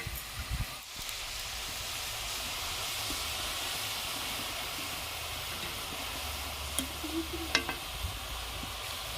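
Nimki pastries deep-frying in hot oil, giving a steady dense sizzle and hiss throughout with a few faint clinks and stirs.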